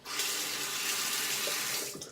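Tap water runs steadily from a faucet into a sink, a loud continuous splashing hiss that fills the whole stretch and tapers off slightly at the very end.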